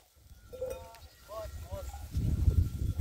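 Angora goats and their kids bleating on a farm in Turkey, a handful of short wavering calls in quick succession, followed by a louder rumble of wind or handling noise.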